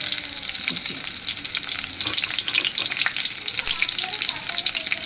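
Four garlic cloves fry in hot oil with tempering spices for stuffed pointed gourd, giving a continuous bright sizzle and crackle at close range, steady and fairly loud with occasional stirring noise.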